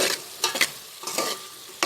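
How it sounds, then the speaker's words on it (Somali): Chopped onions and peppers drop into a hot pan for a pasta sauce, giving short bursts of sizzling and stirring separated by quieter gaps. "waxaan ku darsanaynaa basashii iyo barbarooni aan soo jarjaranay"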